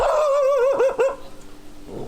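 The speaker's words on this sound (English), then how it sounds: "Some people have guard dogs." A dog in a village on Ko Kret island, Thailand, lets out a loud, close bark that rises into a yelping, wavering howl, then breaks off, with faint background noise after.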